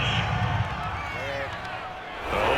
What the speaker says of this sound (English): Oh, this crowd does not like that call.